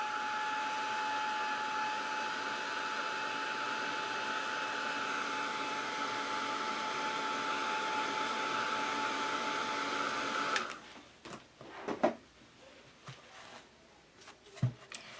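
A hair dryer blowing steadily on acrylic paint gives a constant close whir with a thin whine for about ten seconds, then cuts off, leaving faint taps and brush handling.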